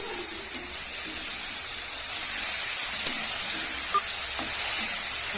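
Onions fry in a pan for chana dal masala, making a steady, close sizzle with faint stirring scrapes and one small pop.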